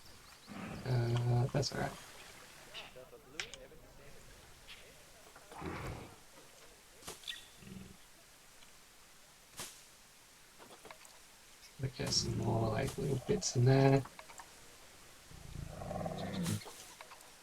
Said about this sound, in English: There's a tiger right behind me right now